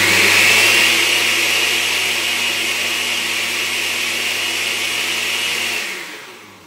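A blender grinding peanut milk roars loudly and steadily at high speed, then winds down as the motor stops at the end.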